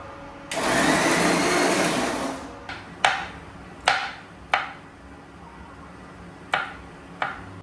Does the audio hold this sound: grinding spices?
yes